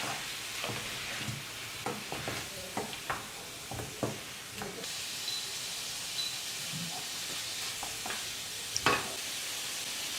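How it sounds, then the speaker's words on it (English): Pork ribs stirred in a hot wok with cooking wine give a steady close sizzle and hiss, broken by repeated scraping stir strokes through the first half, then a smoother continuous frying hiss with a couple of late clatters. "Stir the ribs in the wok slowly in order to remove all the water on the surface."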